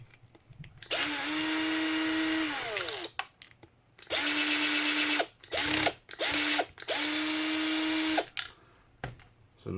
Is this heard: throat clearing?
no